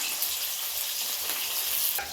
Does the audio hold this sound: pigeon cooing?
no